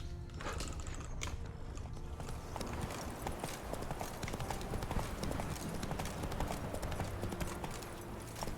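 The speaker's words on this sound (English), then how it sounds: "Whoa there, Roach" Horse hooves clip-clop steadily on ground in the video game The Witcher 3, a continuous close trotting rhythm with faint background ambience.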